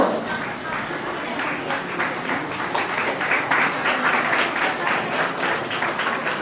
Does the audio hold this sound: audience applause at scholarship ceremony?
yes